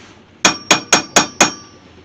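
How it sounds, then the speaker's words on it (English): Five evenly spaced, sharp metallic hammer blows ring out close up as stainless steel hood trim from a 1968 AMX is straightened on a small anvil, each strike decaying quickly. "Now I'll try to get it out with my little anvil again."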